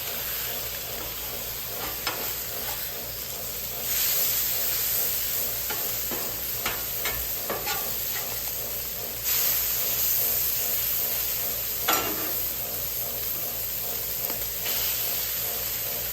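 Bacon slices fry on a Camp Chef griddle with a continuous loud hiss and crackle, broken by a few sharp scrapes and taps as the strips are turned, no speech.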